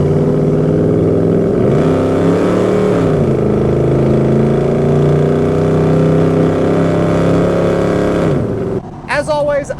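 A 1977 GMC K10 pickup with a crate 350 V8 and overdrive automatic pulls away from idle, a loud, steady engine note rising gently under the throttle and lasting almost the whole stretch before cutting off near the end.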